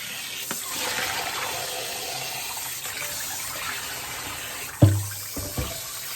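Fish is washed in water, a continuous close splashing and trickling of water with a sharp thump and a smaller knock near the end, with no talking.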